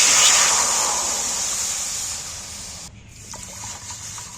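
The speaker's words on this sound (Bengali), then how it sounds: "এবার আমি গরম করার মধ্যে জল ঢেলে দেব" Water poured into a hot pan gives a loud hissing rush at first that gradually fades, then breaks off and gives way to softer bubbling and faint clinks; no one speaks.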